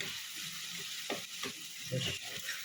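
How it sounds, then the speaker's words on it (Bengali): Potato and papaya fry in a pan while being stirred, soft scraping strokes and gentle sizzling repeating over a quiet, steady hiss, with no talk. "এইভাবে একটু ভালো করে কষে নেবেন।"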